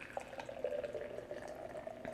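Hazy IPA craft beer poured hard into a glass, a steady faint liquid stream running through the whole short moment with light splashing and fizz, no talking over it.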